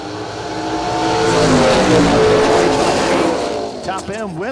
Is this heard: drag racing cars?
yes